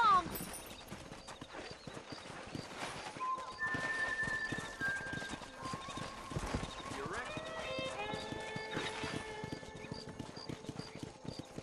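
In the Western game Red Dead Redemption, horse hooves clip-clop in a brisk, steady rhythm with an occasional whinny, while characters talk over the sound and musical tones rise in the background.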